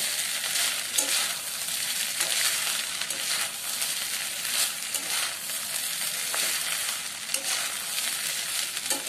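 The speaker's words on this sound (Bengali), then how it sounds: "4-5টা কাঁচা লঙ্কা ও ভাজা সবজিগুলো ভালোভাবে মিশিয়ে নেব।" Green chillies and fried vegetables being stirred into veg fried rice in a hot pan, a steady loud sizzle with scraping strokes of the spatula running throughout, no voices.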